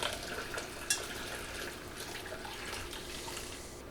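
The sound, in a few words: garlic soup being strained back into a pan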